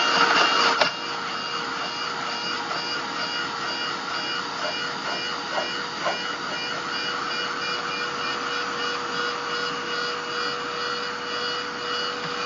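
A dryer blows a steady, even whoosh over freshly painted abstract artwork textured with gel. Close and constant after a brief louder start, with faint clicks and rattles underneath and no talk.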